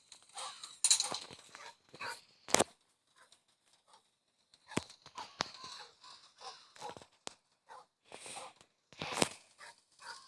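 A dog barks indoors in a scattered series of sharp, fairly faint yaps with quiet pauses between them and no talking.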